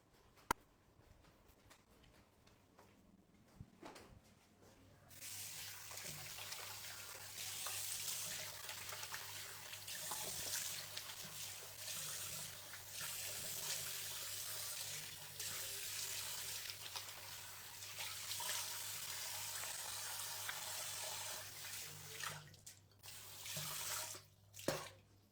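A faucet runs into a sink while someone washes their face. A few quiet knocks come first, then a steady, close splashing stream lasts about twenty seconds before it stops with a few last splashes.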